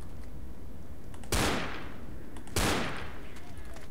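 Two loud, close gunshots in Left 4 Dead, a little over a second apart, each a sharp blast with a fading tail, over a steady bed of low background game noise.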